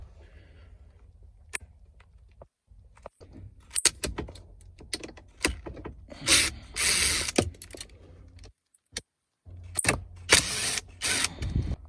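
A small wrench ratchets on a size 25 Torx fastener at the steering column of a Ford Explorer, giving bursts of quick metallic clicking with pauses between, close up and fairly quiet.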